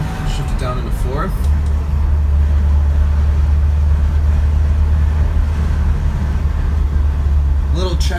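A 1970 Alfa Romeo Giulia Super 1.6 hums from inside the cabin on the road, a steady low engine drone that settles after a downshift from fifth to fourth, with someone talking briefly over it.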